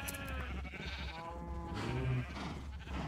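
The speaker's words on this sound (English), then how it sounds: "We got a lot of sheep in here." Minecraft sheep penned together bleat in a few short, wavering calls, moderately loud and close over a soft background murmur, with no speech.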